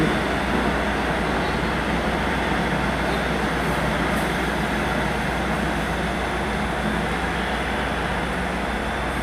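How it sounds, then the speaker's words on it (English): Two South West Trains Class 159 diesel units, 159021 and 159884, arriving at Exeter St Davids station from London Waterloo: a loud, steady engine rumble and rolling rail noise that stays constant throughout. "coming in here is 159021 and 159884, terminating in from London Waterloo"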